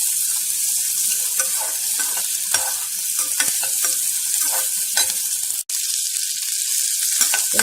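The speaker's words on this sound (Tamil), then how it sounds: "சின்ன வெங்காயம் வந்து நல்லா ஒரு சாஃப்டாக வதங்கிடணும்." Small onions and peas sizzle in a hot pan while being stirred, a steady close frying hiss with scattered scraping stirs and one brief sharp clack, no voices.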